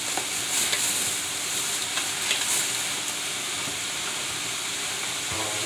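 Cube steak sizzles steadily in a pan, a constant moderate hiss with occasional faint crackles and stirring sounds, heard close up without talk.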